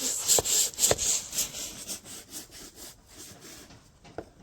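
Dirty, muddy shoes are scrubbed with a brush while being washed, giving a series of quick, close rasping strokes that slow and fade, with a few sharper scrapes.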